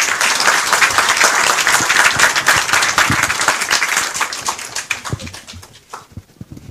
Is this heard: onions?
no